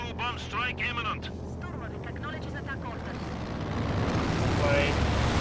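Propeller drone of an IL-2 attack plane passing over a Company of Heroes 2 battlefield, a broad steady roar that swells toward the end, with speech at the start and battle ambience underneath.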